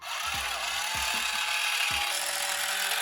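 An electric kitchen cutting gadget runs with a continuous whirring, grinding buzz. A few low knocks and thumps sound beneath it, and it stays fairly loud and even throughout, with no speech.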